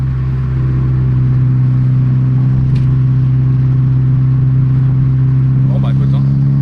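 Volkswagen Polo tuned to 500 hp accelerating, a loud sustained engine drone heard from inside the car, with a brief bump partway through.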